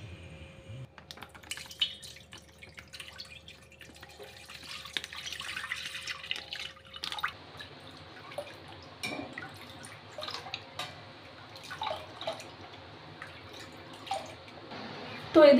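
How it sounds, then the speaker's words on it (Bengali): Milk from cut packets trickles and splashes into a steel bowl in scattered bursts, with light clinks and handling noises, all fairly quiet and without talk. "তো এখন দুধের প্যাকেটগুলো কেটে দুধগুলো এই স্টিলের গামলার মধ্যে ঢেলে এখন জাল দিতে বসাবো।"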